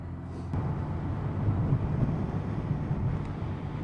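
Steady, dense wind roar buffeting the microphone while riding a Suzuki GS 1000 motorcycle, a continuous low rumbling rush with no pauses.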